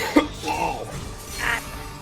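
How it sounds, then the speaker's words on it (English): A single short cough from a streamer, sharp and close at the start, followed by a few faint breathy mouth sounds. "Okay, that cough actually fucking hurt."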